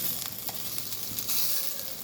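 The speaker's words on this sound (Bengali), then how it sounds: "গ্রাম্য পদ্ধতিতে এইভাবে মাথাগুলো ভাজা হয়" Fish heads fry village style in hot oil, a close, steady sizzle with small crackles and pops and a stirring scrape now and then.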